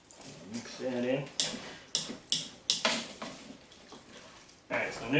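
Rotini pasta salad being stirred in a bowl with Italian and Caesar dressing, giving a series of close, sharp scraping and clacking strokes at an uneven rhythm, with a voice talking in between.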